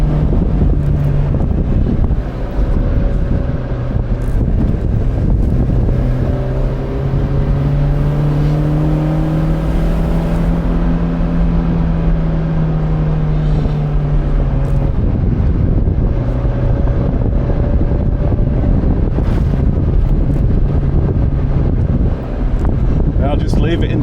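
A car is driven along a road held in second gear with a limited-slip differential, its engine droning steadily and rising and falling in pitch under heavy wind buffeting on the microphone, while someone talks throughout.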